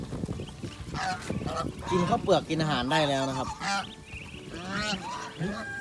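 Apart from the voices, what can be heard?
geese honking on a farm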